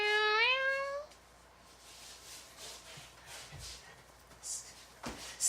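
Two cats meow, a loud rising meow opening the clip, followed by quieter shuffling, faint rustles and small knocks in a room with no talking.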